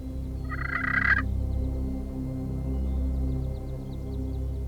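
A wild turkey gobbles once, briefly and fairly close, during a spring hunt in Beauce, against a quiet outdoor background with faint distant chirps.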